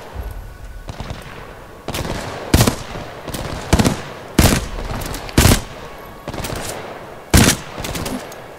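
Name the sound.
gunfire in the video game Titanfall 2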